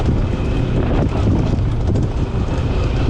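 Riding a 2023 BMW 1250 GS Trophy motorcycle, heard as steady loud wind buffeting over a low engine rumble throughout.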